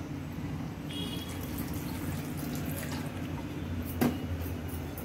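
Water trickles steadily into a spice mix, added a little at a time to make the paste for dry chilli paneer, with a continuous close running-water sound and one brief clatter near the end.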